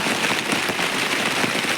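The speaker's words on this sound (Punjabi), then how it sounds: "ਕਾਫੀ ਬਾਰਿਸ਼ ਹੋ ਰਹੀ ਹੈ" Dense, steady rain pours down at night beside the flooding Ghaggar river in a loud, continuous hiss, with scattered drops pattering hard on a nearby surface.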